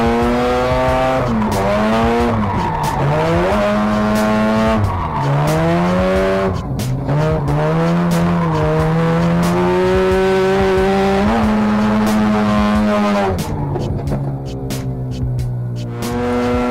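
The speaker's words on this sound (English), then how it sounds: "lot and having to use the e-brake to extend my drift" A Mazda RX-8 with a failing engine drifts around a track using the e-brake, its loud engine revving up and down in wavering pitch while the tires squeal almost continuously.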